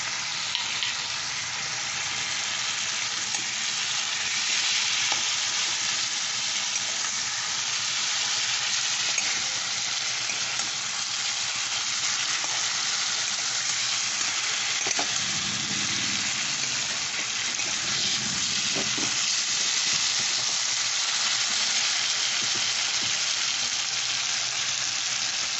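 Tomato sizzles and fries steadily in a pan for vegetarian cauliflower dum, with occasional soft stirring scrapes over a continuous, close, fairly loud crackle and no voices.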